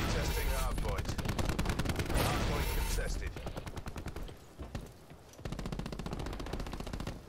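Rapid, loud automatic gunfire in Call of Duty Black Ops 4 during a HardPoint match, rattling in dense bursts with a short lull part way through, then firing again.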